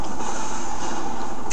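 Helicopter in the Iron Man PC game: a loud, continuous rotor and engine roar filling the whole stretch, steady and close with no talk over it.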